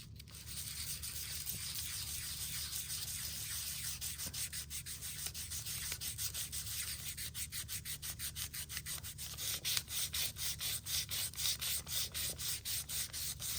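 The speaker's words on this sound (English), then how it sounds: "No, I'm just rubbing holes in it" Thin, old magazine page being rubbed, making close, steady dry scratching that turns into fast rhythmic back-and-forth strokes in the second half, with no talking.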